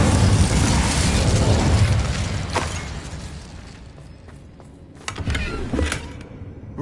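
Loud whooshing roar of the Incendio fire spell cast in Hogwarts Legacy, a broad blast that fades over a few seconds, followed by a couple of sharper bursts and impacts near the end, no talking.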